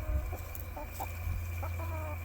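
Chickens cluck in short, broken bursts close by, over a low steady hum.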